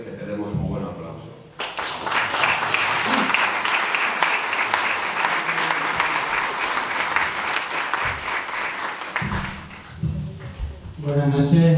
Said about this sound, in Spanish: te mereces que te demos un buen aplauso